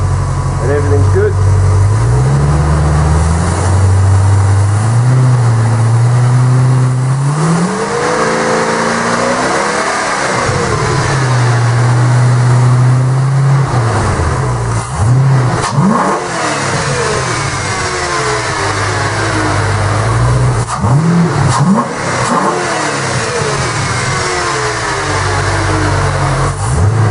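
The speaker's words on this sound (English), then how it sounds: "You just slowly rev it up, just to make sure that everything's good." A Ford 5.4 Triton V8 in a Ford Fairlane G220, after a spark plug change, revs up and down repeatedly, rising pitch sweeps over a rumbling idle, loud and close, with speech occasionally heard over it.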